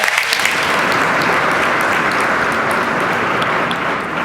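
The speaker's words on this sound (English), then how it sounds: "Let's give him a round of applause." A large audience at the New York State of the State address applauds in a dense, continuous roar of clapping that holds steady and loud from start to finish.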